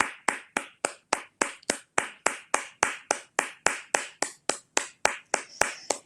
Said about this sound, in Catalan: Podríem començar aquest aplaudiment, que durarà un minut, o sigui que endavant, fem l'aplaudiment.